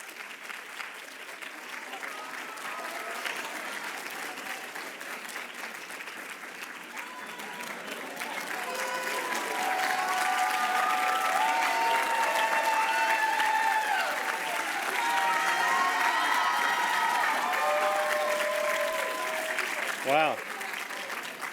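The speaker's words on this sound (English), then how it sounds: "I don't want to stop the clapping." Sustained audience applause at a NASA Langley closing ceremony for student scholars, broad dense clapping swelling louder midway with cheers and whoops mixed in, a few voices calling out near the end.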